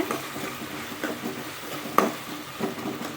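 Curry leaves and green chillies crackle and sizzle in hot oil in a pan for a fish kuzhambu, a soft close sizzle broken by a few light stirring scrapes and one sharper clink.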